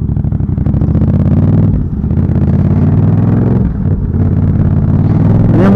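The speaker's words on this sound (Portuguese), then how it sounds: "A minha moto está com escapamento esportivo," A Yamaha MT-07 motorcycle with a sport exhaust rumbles loudly and steadily, revving with deep throaty exhaust tones and brief dips in pitch.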